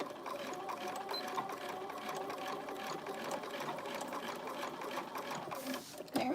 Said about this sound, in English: You definitely want to back stitch on this just because you have such a small seam allowance and because you're doing quilt cotton.